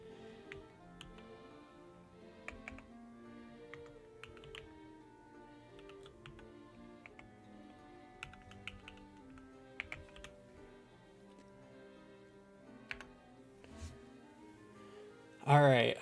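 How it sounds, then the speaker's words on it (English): Typing on a newly switched computer keyboard: steady soft clicks of keystrokes at close range, with a louder burst of noise just before the end. "I just switched keyboards"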